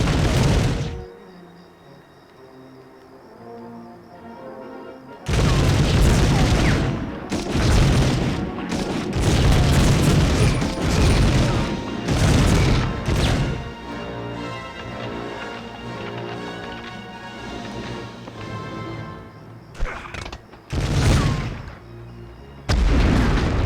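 Repeated heavy explosions from grenades and battle fire in Medal of Honor, arriving in loud, close bursts with rumbling tails, separated by quieter stretches of ambient game sound and music.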